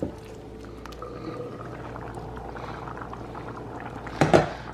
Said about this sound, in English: instead what I'm gonna do is I'm just gonna put it on low and let it simmer for like half hour